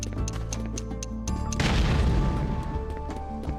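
A bomb goes off in Rune Factory Frontier, a deep boom with a crashing burst that swells and then fades over background game music and chimes.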